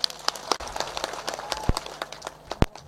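A crowd at a Bangladeshi political speech gives a short burst of scattered applause, sharp uneven claps over a few seconds amid background murmur.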